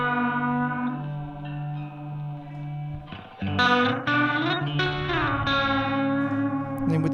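Electric guitar chords ring out through modulation and reverb pedals on a worship pedalboard, with wobbling sustained tones, a strum change midway and lush trailing ambience, no talking.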